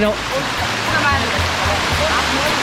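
Hinawanan Falls in Bohol, a waterfall that gives off a loud, steady rushing roar filling the whole stretch, close by, with faint voices under it.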